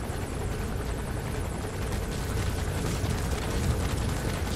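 Helicopter in the video game Metal Gear Solid V, a continuous rotor roar with a dense rumbling wash, steady and fairly loud with no talk over it.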